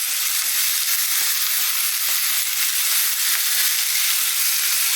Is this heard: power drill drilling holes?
no